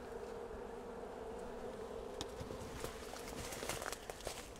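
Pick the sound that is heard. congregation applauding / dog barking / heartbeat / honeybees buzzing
honeybees buzzing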